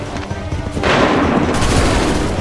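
A massed musket volley in Assassin's Creed 3 erupts as a sudden, dense burst of overlapping shots that rolls on as a sustained, loud roar, with faint shouting under the opening moment.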